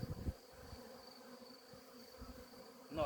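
A swarm of honey bees hums faintly in the background, a thin, steady buzz with a few nearby thumps and rustles at the start and end.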